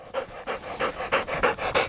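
A gun dog pants hard after a retrieve in training, with quick regular breaths about four per second, close, loud and steady without any talk.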